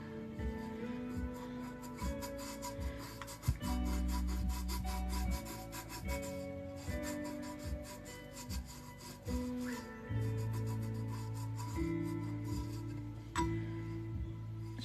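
Glitter on a tumbler being burnished by hand, a steady soft rubbing and rasping that runs throughout, with low tonal hum and occasional faint clinks underneath.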